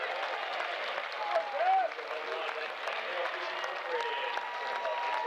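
A ballpark crowd at a college baseball game between USC and Indiana cheers and applauds steadily after a home run, a dense wash of noise with a brief louder swell partway through.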